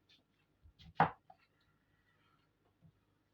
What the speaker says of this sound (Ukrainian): Далі беремо цибульку. І так як на зажарку кришимо.